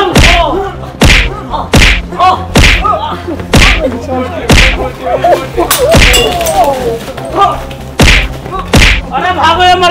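In a Hindi comedy film fight, men beat someone with a rapid string of loud, close thwacks and thuds, about a dozen in ten seconds, while voices shout over the blows.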